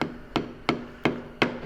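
A hammer strikes a screwdriver to drive out a truck kingpin, giving four sharp metallic blows at a steady rhythm about a third of a second apart, close by, each ringing briefly over a low hum.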